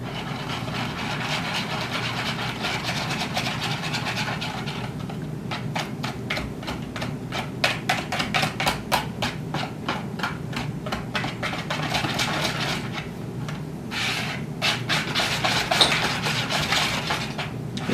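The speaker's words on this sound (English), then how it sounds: "So I'm just gonna whisk all this together." A whisk beats a mixture in a bowl with rapid, rhythmic clicking strokes that come in bursts, close and fairly quiet, with brief pauses between rounds and no talking.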